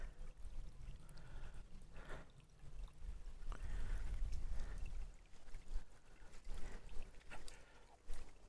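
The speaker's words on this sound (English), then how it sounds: "You got a little stream running through." A small stream running across an upland farm campsite near Hawes, giving a steady outdoor wash of flowing water with low rumble, close and moderately loud, no voices.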